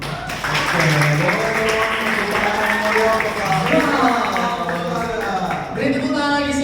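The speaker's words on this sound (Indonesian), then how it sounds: "Beri tepuk tangan lagi sekali lagi teman-teman" An audience applauds after a presentation on content-creator strategy. The clapping is a steady, dense wash lasting several seconds, with voices cheering and talking loudly over it.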